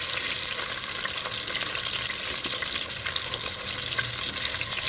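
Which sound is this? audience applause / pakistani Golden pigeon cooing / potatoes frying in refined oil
potatoes frying in refined oil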